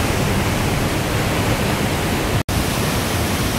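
A turbulent waterfall at São Romão in Chapada das Mesas, Brazil, pouring through a natural rock bridge, roars as a loud, steady broadband rush heard up close, with one brief dropout near the end.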